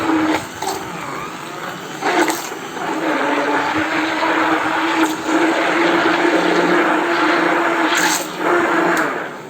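Blender whisking condensed milk for guava ice cream, a steady close motor whir with a few short bursts and pauses along the way.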